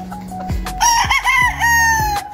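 Rooster crowing loudly and close by on a backyard poultry farm, a single full cock-a-doodle-doo with a few brief clucks before it.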